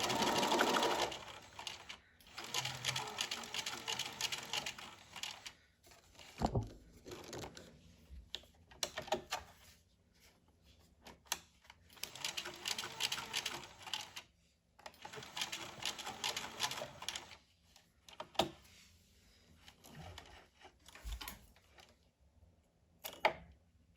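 A sewing machine runs in bursts, edge-stitching a back neckline stay, with several stretches of steady whirring separated by pauses and handling noises.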